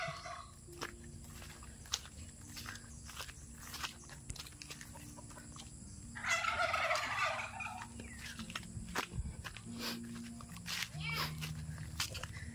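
A male turkey at a rural home in the Philippines gobbles once in a brief, loud, rattling burst midway, with faint scattered footsteps and low background sounds before and after it.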